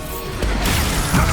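Confringo blasting spell explosion in Hogwarts Legacy, a loud crashing burst that hits suddenly and rumbles on, dense and close.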